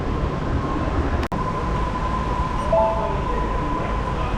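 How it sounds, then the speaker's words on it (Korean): The Seattle monorail running: a steady, loud rumble of the car in motion with a faint constant whine. One brief dropout breaks it, and it continues evenly to the end. "엄청 짧게 운행하는 모노레일인 것 같아요."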